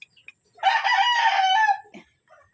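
A single rooster crows loudly and close by, one long cock-a-doodle-doo, with a few faint clucks before and after.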